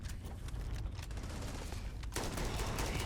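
Rapid bursts of automatic gunfire crackle in Starfield during a cave firefight, dense overlapping shots at moderate distance, growing louder and sharper near the end, with no talking.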